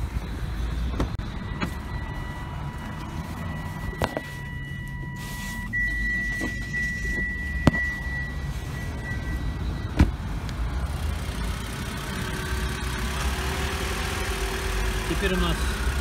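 A car engine is started and then settles into a steady idle, with the cranking followed by a continuous low hum and a few clicks, heard close up.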